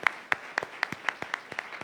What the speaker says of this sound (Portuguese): Vamos receber esses visitantes com um aplauso ao Senhor.